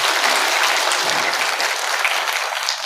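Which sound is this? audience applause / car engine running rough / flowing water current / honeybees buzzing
audience applause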